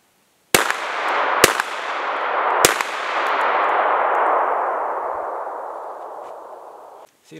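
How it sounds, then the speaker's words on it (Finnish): Three sharp shotgun blasts from a Fabarm P.S.S.10, fired at wild boar outdoors, come about a second apart, each leaving a long rolling echo that fades slowly across the open landscape. "Siinä on sikkaa ammuttu kolme laukkaasta, josta yksi on mennyt jonnekin."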